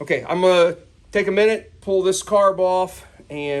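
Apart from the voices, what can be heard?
None of the usual background noises is heard.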